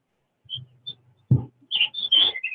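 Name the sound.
birds whistling in the background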